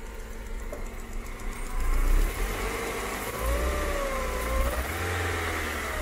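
A car engine with a misfire, running as if on three cylinders, idles, then revs up several times with a rising whine, heard up close.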